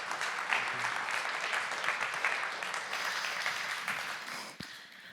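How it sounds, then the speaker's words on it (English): A crowd applauds the speakers at the close of a Lithuanian foreign policy conference, steady full-room clapping that holds for several seconds and then begins to thin out. "please join me in a big round of applause for our speakers"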